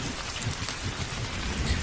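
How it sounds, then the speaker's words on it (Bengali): Heavy rain pours down hard during a Kalbaishakhi thunderstorm at night, a loud continuous wash of drops with a low rumbling undertone throughout, no voices. "এই বৃষ্টি কখন যে থামবে বলো তো"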